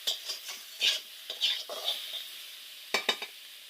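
Stirring and frying in a pan while cooking a Bengali rohu fish and elephant foot yam curry: irregular scraping spatula strokes over a light sizzle, with sharp metallic clinks against the pan near the end, close and clear.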